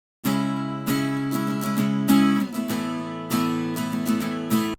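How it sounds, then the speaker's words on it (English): Doubled strummed acoustic guitar tracks recorded in a normal bedroom with a large-diaphragm mic play chords in a steady rhythm, close and fairly dry, with a small-room sound and no voices. "I have doubled acoustic guitar tracks"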